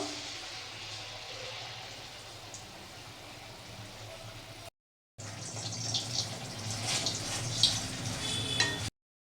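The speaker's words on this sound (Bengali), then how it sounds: "এবার ভেজে নেব তেল গরম হয়ে গেছে এখন এক হাতা করে দিয়ে দেবো" Palm-fruit pitha batter hits hot oil and sizzles, a soft, fine crackle that swells louder after a brief gap, close by and with no voices.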